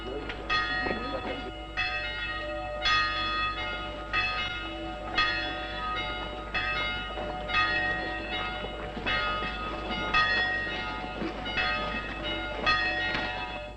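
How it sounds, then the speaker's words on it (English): Town church bells peal in repeated overlapping strikes, ringing out steadily and fairly loud to summon the townspeople, with a low continuous hum beneath. "The bells are calling the people to the town hall."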